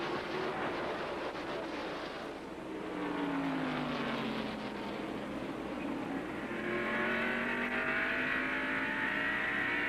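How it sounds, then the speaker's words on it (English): Stock cars roaring around the track in a pack during the 1990 First Union 400, loud continuous engine drone with rising and falling pitches as cars pass close by. "First four cars right together on the racetrack"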